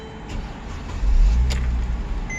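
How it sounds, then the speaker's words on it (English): A 2012 Mercedes GLK 350 starts up nearby, its engine catching with a low rumble that swells and then settles into a steady idle. "it starts the car as well"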